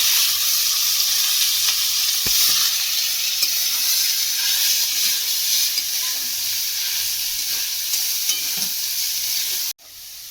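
Chicken frying in a pan with onion, garlic and ginger makes a loud, continuous sizzle with faint stirring scrapes. The sound cuts off abruptly just before the end.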